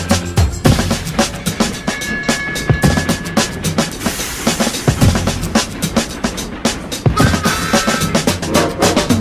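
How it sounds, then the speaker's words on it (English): A train clatters along the track in a steady clickety-clack rhythm, loud and close, with dense rhythmic rail clicks running throughout and music-like tones weaving in and out. "Coming down the track, clickety clack, clickety clack, clickety clack"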